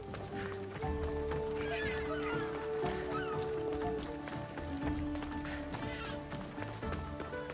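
Horse in the video game Assassin's Creed Odyssey, with steady clip-clop hoofbeats and a whinny over layered game music, and a player talking intermittently.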